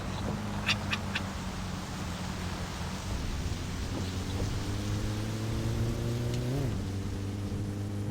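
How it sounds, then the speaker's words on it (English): Steady rain in the video game My Summer Car hisses over a droning car engine that shifts pitch, with a few sharp ticks near the start. "And it starts raining."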